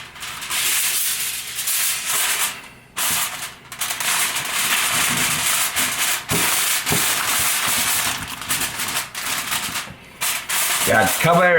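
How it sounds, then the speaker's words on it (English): Aluminum foil is pressed and crinkled over BBQ chicken, a near, loud crackling rustle that runs almost continuously with a few brief pauses and bursts of sharper crunching. "Aluminum foil"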